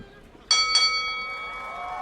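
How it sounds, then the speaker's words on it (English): A boxing-style bell rings twice in quick succession at a ringside match, the bright metallic strikes sharp and fairly loud, then leaving a long sustained ring that fades slowly. "I think we're waiting for the bell"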